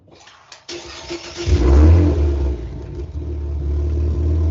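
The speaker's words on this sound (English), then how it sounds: "These things burble and pop and all kinds of stuff when you're like decelerating." A Cadillac CT4-V Blackwing engine fires up loudly with a deep rev, then settles into a steady, rumbling idle heard up close.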